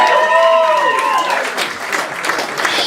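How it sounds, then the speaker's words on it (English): Audience at a comedy roast battle in New York City applauding and cheering, fairly loud, starting under a voice and a ringing tone that fade after about a second, then continuing as a crowd roar. "Give them another round of applause."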